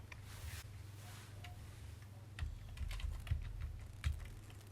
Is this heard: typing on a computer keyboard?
yes